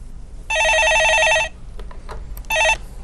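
Telephone rings twice with an incoming call on a Korean stock-market phone-in radio show, a loud electronic trilling bell lasting about a second, a pause with faint background, then a shorter second ring.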